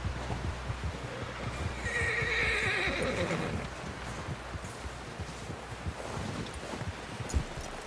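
In the video game Red Dead Redemption 2, a horse whinnies loudly partway through while hooves clop steadily underneath, with faint rustling outdoor ambience and no talking.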